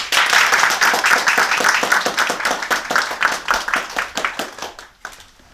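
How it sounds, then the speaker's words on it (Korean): Audience applause for a pastor in a large packed auditorium at a Korean community humanities lecture, dense steady clapping that thins and fades out near the end. "우리 목사님을 박수로 올립니다."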